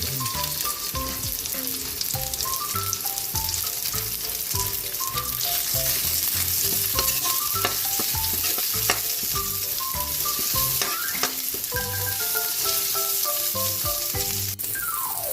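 Onions are sautéed in a pan of pork pickles, with a loud continuous close sizzle and frequent rhythmic stirring scrapes, while background music plays underneath.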